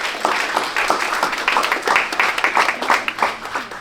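Audience applause at an awards event celebrating Oklahoma boxing and combat sports, as a longtime combat sports announcer is introduced; dense, steady clapping from a crowd, fairly loud and close, with a faint murmur of voices mixed in.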